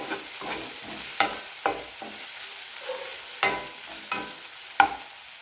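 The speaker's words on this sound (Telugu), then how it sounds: "ఇందులో అల్లం వెల్లుల్లి పేస్ట్ వేసి పచ్చివాసన పోయేంత వరకు కలుపుకోవాలి" Ginger garlic paste frying in a pan while a spoon stirs it: a steady sizzle with sharp scraping clicks of the spoon against the pan at irregular intervals, close and fairly loud, no voices.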